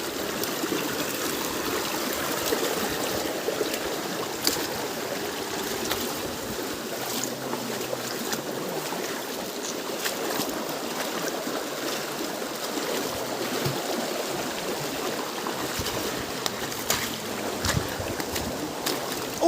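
Rushing water pours steadily and powerfully, a continuous broadband roar with no break, heard fairly close and alone.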